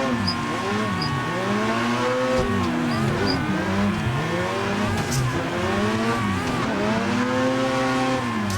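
Drifting car at Lime Rock in Assetto Corsa, from the BDC car pack: a loud, continuous engine snarls and rises and falls in pitch as it revs, while tires squeal steadily through the slides, with no talking.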